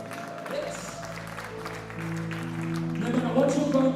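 A church congregation claps along during a worship encouragement, the clapping building and growing louder toward the end, mixed with music and voices.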